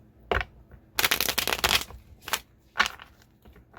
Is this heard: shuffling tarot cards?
yes